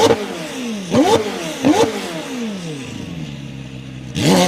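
Three sharp, close revs from the 2018 McLaren Senna engine each climb and fall quickly, with a sustained idle between them and a fourth rev rising at the end.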